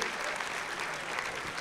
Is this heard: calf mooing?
no